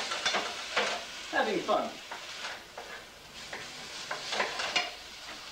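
Food stirred with a fork in a hot, sizzling pan, heard as close scraping and clinking strokes over a steady frying hiss, with someone speaking briefly.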